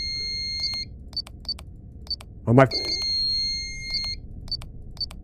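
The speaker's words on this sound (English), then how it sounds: "What was that extra beep?" Short electronic beeps in a dead signal game, repeating in a steady rhythm of paired high tones, clear and close, with a voice exclaiming briefly in the middle.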